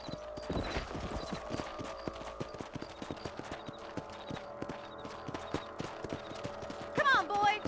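Steady clip-clop of horse hooves at a brisk gallop in the video game Red Dead Redemption, continuous and fairly close, with a game music bed underneath and a brief whinny near the end.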